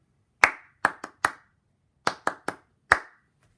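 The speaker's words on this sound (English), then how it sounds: "Here's measure 1, clapped." Hands clap an eighth-sixteenth rhythm: eight crisp, close claps in an uneven pattern, a pair and a quick triplet-like group, a pause, then four more, with no other sound around them.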